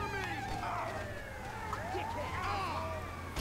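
An ambulance siren in Grand Theft Auto V, a wailing, sweeping tone rising and falling steadily at moderate distance over game traffic noise and a low engine hum.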